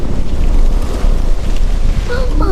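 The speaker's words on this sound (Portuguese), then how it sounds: "Foi só o vento batendo na árvore." Wind gusts steadily against a tree, a loud rushing roar that buffets the microphone, with a brief faint higher sound near the end.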